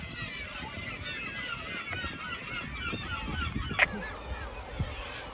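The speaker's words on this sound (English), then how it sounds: "the seagulls are a bit noisy" Gulls calling by the sea at Staithes on the Yorkshire coast, a run of harsh honking cries at middle distance over steady surf and wind, one sharper call standing out near the end.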